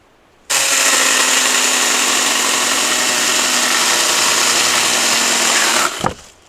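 A Yard Care 12-inch chainsaw cuts through a log, running at a loud, steady high-pitched whine for about five seconds and then cutting off abruptly.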